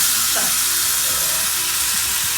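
Sirloin steak sizzles loudly in a too-small frying pan as it is flipped, a dense continuous close hiss and crackle with a faint scrape of the turn.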